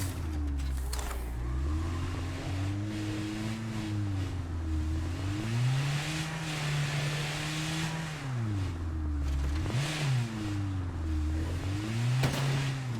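A car in a video game revs and drives, its loud engine note repeatedly swooping up and down in pitch as the throttle is worked, with brief rattles and knocks along the way and no talk.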